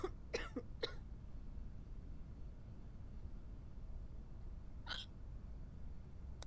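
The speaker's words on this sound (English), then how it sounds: "You got hiccups." Several quick hiccups in the game Quarantine Zone, a cluster at the start and one more later, over a steady low background hum.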